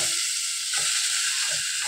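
Marinated mutton going into a pressure cooker: a steady, bright sizzling hiss with a few soft low thuds as the meat pieces drop in and shift.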